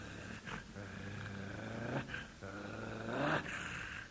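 A large wolf growling behind a door, low rumbling growls that rise and fall in several drawn-out swells with short snarling peaks, muffled and moderately close.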